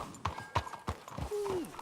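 Hooves of a horse in the video game Red Dead Redemption 2 clop on the ground in a few spaced, distinct steps, moderately close, with a short whinny-like tone near the end over a quiet backdrop.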